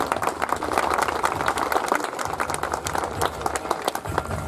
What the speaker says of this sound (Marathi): जोरदार टाळ्या वाजून आपण एकदा स्वागत करूया.